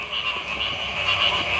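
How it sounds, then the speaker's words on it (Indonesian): Frog croaking continuously in a steady, fairly loud outdoor chorus with a bright rasping tone and no talking. "Kodok itu nggak boleh dibunuh."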